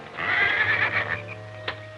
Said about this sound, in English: Them horses may start sounding off again.